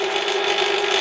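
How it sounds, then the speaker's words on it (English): A spiral reamer cuts into metal on a lathe, giving a steady, loud whirring drone with a constant tonal hum and a faint rattling texture, running evenly throughout without voices. "This reamer has a spiral that curves to the left, so it pushes the chips forward."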